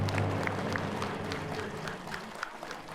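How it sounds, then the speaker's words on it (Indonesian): Studio audience applause on an Indonesian talk show, a fairly dense clapping with distinct individual claps popping out, over low music or rumble that fades after the first moments, tapering slightly toward the end. "Bu Heni, tepuk tangan semua boleh."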